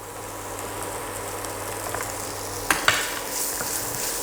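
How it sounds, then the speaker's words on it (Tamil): Garam masala and a handful of cashews sautéing in a pan for restaurant-style paneer butter masala, a soft steady sizzle with a couple of sharp spoon-against-pan scrapes near the end. "அதனால் நல்லா கலந்து இப்படி வதக்கி விட்டுருங்க"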